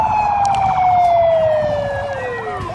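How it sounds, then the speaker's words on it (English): Emergency vehicle sirens at a club fete, loud and close, a wailing tone sliding steadily downward as they wind down and fade. "Kill the sirens, guys."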